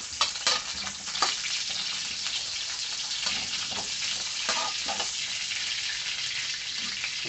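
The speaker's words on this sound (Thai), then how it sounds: "เดี๋ยวเราไปผัดกันนะผัดเส้นหมี่ก่อนนะครับ" Steady loud sizzling of rice noodles stir-frying with garlic in a hot wok, with scraping and clanking of utensils stirring throughout.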